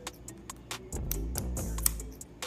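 Kitchen shears snipping the fins off lobster tails, a series of sharp close clicks and crunchy cuts in quick succession, with a heavier scraping crunch midway.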